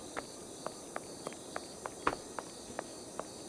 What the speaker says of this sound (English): All I hear is the chirping of the crickets.